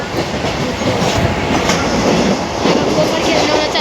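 A moving train is heard from inside the carriage: a loud, constant roar and rattle of wheels on the rails that fills the whole moment.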